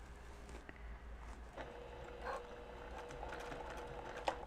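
A sewing machine making a few stitches while quilting: faint, soft mechanical clicking and whirring in short bursts against a quiet room.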